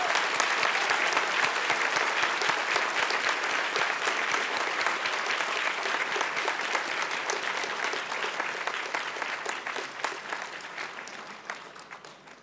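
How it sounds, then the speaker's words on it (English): Sustained applause from a large audience at a university convocation ceremony, steady dense clapping for about twelve seconds that gradually thins and fades toward the end. "Let's give them our warmest round of applause."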